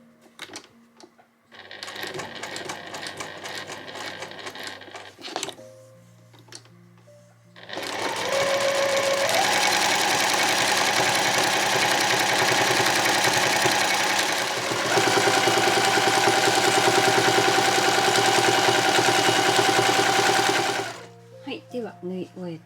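A sewing machine runs in bursts while stitching a two-tone cotton shoulder bag, starting with a backstitch, then settles into a long steady whirring run, loud and close, with a light hum between bursts.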